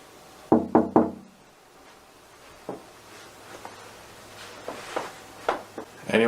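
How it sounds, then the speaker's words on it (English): Three sharp knocks land close together on a hotel room door, then several fainter, scattered taps and knocks follow in a quiet corridor, with no talking. "See what happens if I knock on it."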